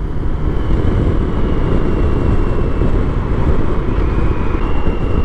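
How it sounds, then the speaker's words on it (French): A BMW six-cylinder motorcycle heard while riding gives a steady, loud engine drone mixed with heavy wind rush and no talk. "Surtout qu'on entend bien siffler le moteur 6 cylindres."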